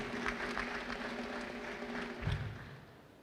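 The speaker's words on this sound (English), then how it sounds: "A round of applause for him in absentia." Steady applause from a crowd at a pledge-taking ceremony, a dense patter of clapping at moderate distance that continues throughout and tapers slightly at the end.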